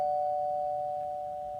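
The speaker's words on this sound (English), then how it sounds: "as the doorbell rang" A doorbell sounds one sustained electronic chime that fades slowly, heard alone in a quiet room.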